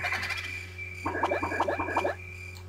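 A giant frog croaks in Mario Party 2 in a rapid, rhythmic run of raspy croaks lasting about a second, over a steady game music drone with soft tones.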